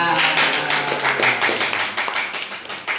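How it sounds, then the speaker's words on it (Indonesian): Several people clap together in a classroom lesson, a dense run of quick overlapping claps held steady for a few seconds. "Betul, tepuk tangan."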